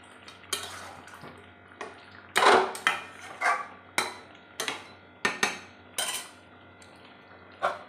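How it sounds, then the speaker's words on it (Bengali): A pot lid comes off and a spoon stirs chicken meat in the pot, giving a run of distinct metallic clinks and scrapes in an irregular rhythm, close and clear without talk. "ঢাকা খুলে একটু নেড়ে দিচ্ছি"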